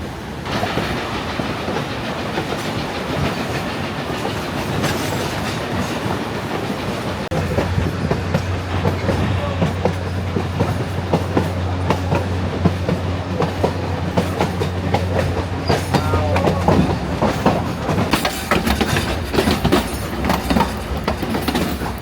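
A narrow-gauge steam train on the Durango & Silverton railroad rumbles past on the rails while accelerating, wheels clacking steadily over a low mechanical drone that swells in the middle and stays fairly close.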